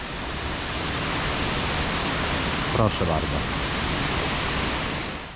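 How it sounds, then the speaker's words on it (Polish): Norwegian mountain waterfall passed on a motorcycle, a steady broadband rush of falling water blended with wind and road noise, with a brief spoken voice midway. "Waszym oczom po prawej przez w tunelu po lewej ukaże się bardzo fajny wodospad"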